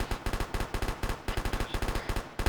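Machine gun fire in the video game Arma 3, rapid sustained bursts of sharp shots in a steady rhythm, loud and close, with brief pauses between bursts.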